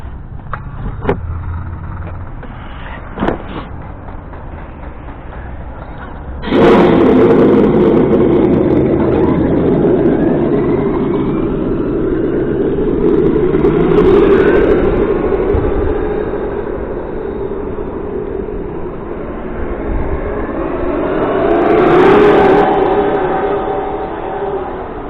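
A Traxxas X-Maxx 8S RC car revs up hard after a few seconds of quiet handling, then holds a loud, steady, whining motor roar at speed that surges and fades as it passes.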